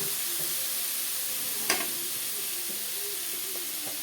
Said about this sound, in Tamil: அந்த தக்காளி வந்து சாறு வந்து அந்த பாவக்காயில் இறங்குற மாதிரி நல்லா கிண்டிக்கலாம்